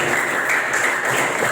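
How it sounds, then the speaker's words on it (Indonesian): A classroom of students claps together in a brief, dense burst of applause, continuous and close for just over a second. "tepuk tangan dulu untuk kita semua"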